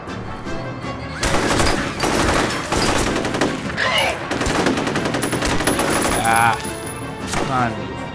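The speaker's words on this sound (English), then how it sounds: "Suppressive fire!" Heavy suppressive automatic gunfire from the shooter game F.E.A.R. rattles loudly and almost continuously, with dense overlapping bursts and brief swells, while game sounds chirp in the background.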